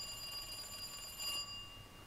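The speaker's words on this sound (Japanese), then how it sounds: "あ、電話鳴ってる。" A ringing phone in Resident Evil 2, a steady high electronic trill continuing at moderate volume and cutting off partway through, leaving quiet game ambience with no voices.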